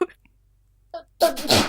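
A single sharp, close sneeze bursts out after a near-silent stretch and a faint earlier sound, heard during a casual conversational podcast about movies.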